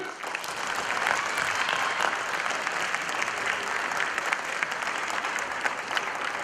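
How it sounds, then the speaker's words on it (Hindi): An audience at a Hindi stage play applauds to welcome the director, producing steady, loud clapping that holds evenly from start to finish with a faint murmur of voices beneath. "हम ताली बजाकर स्वागत करेंगे"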